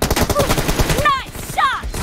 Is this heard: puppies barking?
no